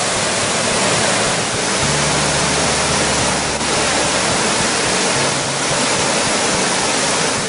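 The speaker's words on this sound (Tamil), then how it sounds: "650 ஏக்கரில் உள்ள ஏரி நிரம்பி உபரி நீர் வெளியேறி வருகிறது." Surplus water pouring out of the overflowing 650-acre Thoosur lake, a loud, dense, unbroken roar of rushing water, steady and close throughout.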